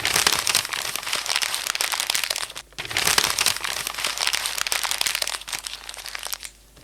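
Synthesized paper crumpling made with the Vital VST synth gives a dense, loud crackle of crinkles that runs almost nonstop, breaks briefly once, then resumes before fading near the end.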